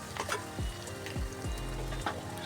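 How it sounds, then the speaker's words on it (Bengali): Spices fry lightly in a pan for a Bengali mutton curry. A close sizzle is broken by a few quick clanks and scrapes of a stirring utensil, with no voices. "বেশি ভাজবো না আমি, কারণ বেশি ভাজলে গ্রেভিটা দেখতে ভালো লাগে না। হালকা ভাজা দিব।"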